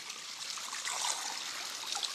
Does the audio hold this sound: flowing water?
yes